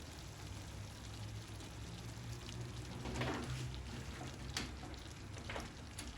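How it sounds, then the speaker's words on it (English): Extra sugar syrup draining off while making Jamaican coconut drops, a soft, steady pouring trickle with faint splashes, quiet and continuous. "This is where you drain off the extra sugar."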